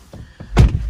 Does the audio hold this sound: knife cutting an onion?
no